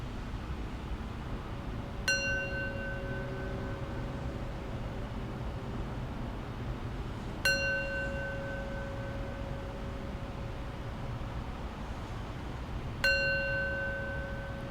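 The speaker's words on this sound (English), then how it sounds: "I'll close practice with 3 rings of the bell." A meditation bell is struck three times at even intervals, each ring sounding clear and then sustaining a long, slowly fading tone over a quiet room hiss, with no speech.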